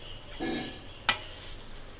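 Chana dal mixture stirred and roasted in a kadhai: a soft scrape from the stirring, then one sharp clink of utensil on metal, over a low sizzle, close and quiet.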